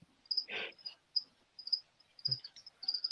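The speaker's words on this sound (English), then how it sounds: "some katydids are very noisy" A katydid calls with short, high, buzzing chirps repeated in an uneven rhythm, close and clear against a quiet background, with a couple of faint soft knocks.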